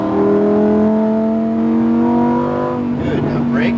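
Lamborghini Huracan engine accelerating hard on a racing circuit, a loud rising howl that climbs steadily in pitch, then breaks into a rougher burble near the end, with talk layered over it.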